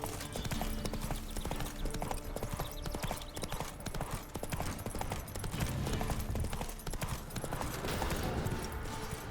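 A horse ridden hard in the Witcher 3 video game gallops with steady, rapid clip-clop hoofbeats, loud and continuous throughout over a dense game soundtrack and ambience.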